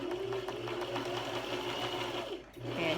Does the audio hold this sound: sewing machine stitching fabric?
yes